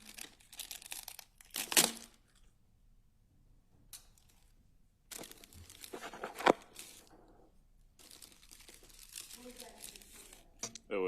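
Scissors snip and plastic evidence packaging crinkles and tears in a quiet courtroom during a murder trial, in scattered bursts of rustling and cutting separated by near-silent pauses.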